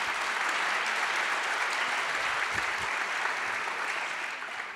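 An audience applauds at a national federation congress, dense steady clapping from a hall crowd that holds even throughout and fades slightly at the end.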